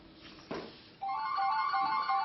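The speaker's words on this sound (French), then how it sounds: "le téléphone de la famille Ferme n'a jamais autant sonné" A family's home telephone gives an electronic ring, a clear tonal warble that starts about a second in and carries on steadily to the end, preceded by a soft thump.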